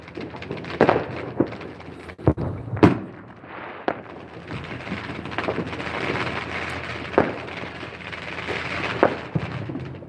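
Neighborhood Fourth of July fireworks in a Las Vegas front yard setting, with a series of sharp pops and booms at irregular intervals, some close and loud, others farther off, over a steady crackling outdoor background.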